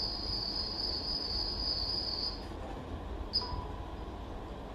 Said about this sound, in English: This is cricket sound.